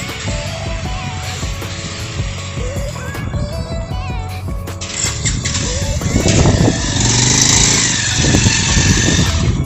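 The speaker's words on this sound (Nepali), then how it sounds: "बाइक आउँदैछ" A motorbike approaches on or near a suspension bridge at Domukha, Jhapa, its engine drone swelling louder over the second half amid steady outdoor rumble and wind.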